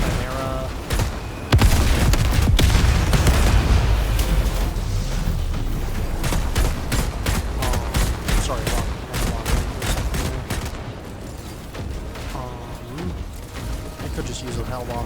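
Explosions tearing apart an automaton facility in Helldivers 2: a heavy boom, then a long stretch of dense rumbling blasts and crackling debris, loud at first and gradually fading, with a voice talking over it.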